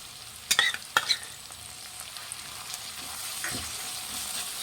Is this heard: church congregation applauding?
no